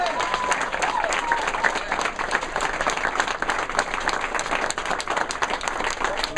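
A big round of applause from the audience at a faith peace breakfast, loud and continuous clapping from a roomful of people with some cheering mixed in, steady from start to finish.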